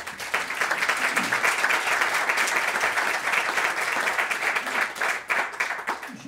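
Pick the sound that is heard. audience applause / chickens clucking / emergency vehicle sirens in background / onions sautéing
audience applause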